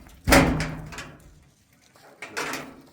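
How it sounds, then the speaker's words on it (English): A wooden door in an Alaskan garden clearing opens with a sharp knock and scrape, then a fainter second creak or thud a couple of seconds later, close and without talk. "See how the door opens up here?"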